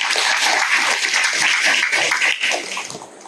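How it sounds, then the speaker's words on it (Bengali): An audience at a Friday Feast devotional class claps together in a dense, even burst of applause that fills the room, then thins and fades away over its final second. "ওনার জন্য একটা করতালি সবাই"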